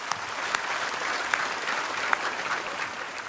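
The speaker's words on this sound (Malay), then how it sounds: "Bagi tepukan pada mereka tu semua." A large crowd at the UMNO general assembly applauds the women seated on the floor below, a steady, dense wash of hall-wide clapping with occasional sharper individual claps.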